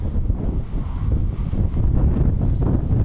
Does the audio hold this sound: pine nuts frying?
no